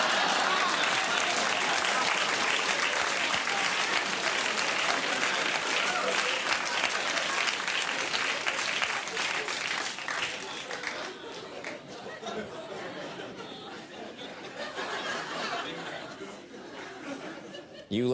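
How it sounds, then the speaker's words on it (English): A large comedy-show audience laughs and applauds loudly and continuously, with dense clapping and cheerful chatter that gradually softens after about ten seconds before swelling again. "You laughed and applauded too loud"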